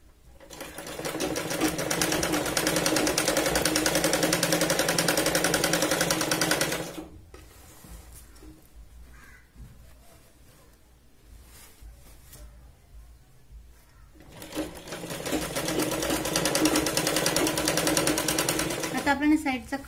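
Sewing machine stitching a straight seam on a kurti, a rapid steady mechanical whir running in two long bursts separated by a quiet pause, close and alone.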